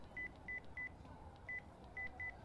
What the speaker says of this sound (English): she typed a quick message to her brother on her phone